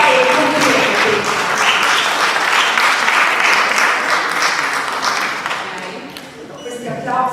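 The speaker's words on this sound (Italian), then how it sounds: "Questi applausi però, mi raccomando, un pochino più vivi" Audience applause at a book presentation in a hall in Italy: dense, continuous clapping throughout, thinning slightly near the end before picking up again.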